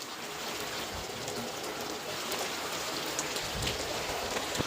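Heavy rain pours down in a dense, constant hiss with scattered splashing drops, continuous throughout and with no voices.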